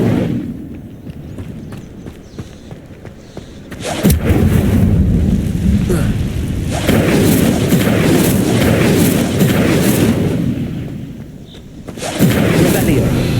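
Incendio fire spells in the video game Hogwarts Legacy burst in with loud, sudden whooshing blasts, a strong surge near four seconds and another near twelve, with crackling fiery rumble sustained between them under a talking voice.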